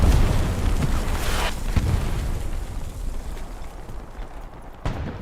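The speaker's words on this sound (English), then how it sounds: "it's gonna be a big explosion" A large explosion in the World War II shooter Hell Let Loose, a broad rumbling blast that rolls on and fades, with a second sharp boom near the end.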